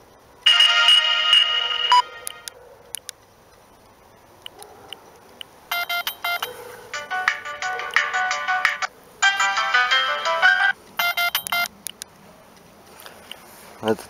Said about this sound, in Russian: Тут рингтоны из тем у нас.